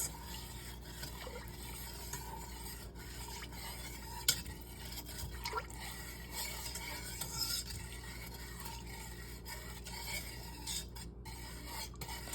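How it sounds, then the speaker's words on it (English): Two cups of sugar whisked for banana pudding, heard as a steady, close, quiet swishing and scraping in a pot that runs the whole time, with a few small clicks and no talking. "so that's 2 cups of sugar. And we'll whisk it."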